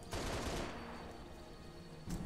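Gunfire from a VTOL aircraft's weapon in the video game Halo Reach, a burst of rapid shots at the start, then sustained rumbling combat noise with another hit near the end.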